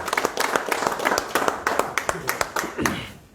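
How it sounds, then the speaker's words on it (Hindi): An audience at a political party joining event claps to welcome new members, a ragged, fairly close burst of clapping with distinct individual claps, while voices are heard among it and the clapping fades at the end. "तालियों के साथ इस्तकबाल करें।"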